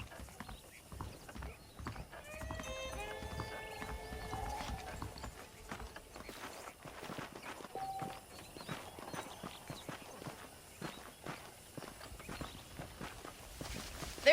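Hooves clip-clop steadily on hard ground in the video game Red Dead Redemption, several saddled horses walking at an easy pace, with a brief whinny early on; fairly quiet throughout.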